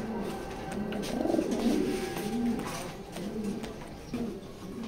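A pair of racer pigeons coo up close, with several soft, throaty rolling calls rising and falling over a faint background hum.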